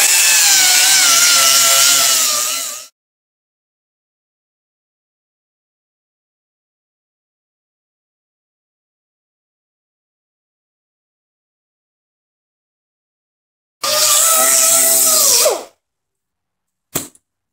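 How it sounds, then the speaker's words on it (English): An angle grinder works a plastic car bumper during a collision repair, giving a loud harsh grind for about three seconds, then silence, then a second burst of roughly two seconds and a final brief touch. "when you grind this stuff, the heat from the grinder kind of melts that plastic a little bit"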